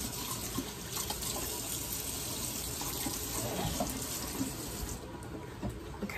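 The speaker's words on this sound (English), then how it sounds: "Okay, I'm gonna rinse out that stuff there." Kitchen sink tap running steadily while rinsing, a constant close splashing water flow without pause.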